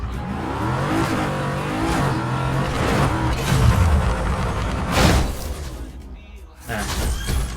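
A car in the Need for Speed Heat video game roars along, then jumps and lands with a loud broadband crash. The engine drone stays close and steady, with brief dips and surges.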